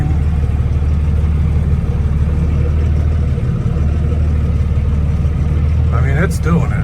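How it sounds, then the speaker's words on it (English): Off-road wrecker built to tank-turn, braking fully on one side while its left wheels spin on grass; a loud, steady engine drone runs throughout, with a brief higher whine rising near the end. "Left side wheels are spinning."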